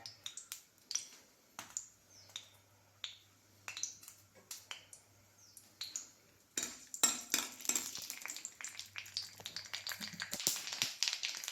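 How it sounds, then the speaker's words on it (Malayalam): Mustard seeds pop and crackle in hot coconut oil in a pan, sharp irregular snaps close up, sparse at first and then thickening into a dense, faster spatter. "എണ്ണ ചൂടായി ഏലയ്ക്ക് നമുക്ക് ഈ കടുക് ഇട്ട് കൊടുക്കാം കടുക് ഒന്ന് പൊട്ടട്ടെ"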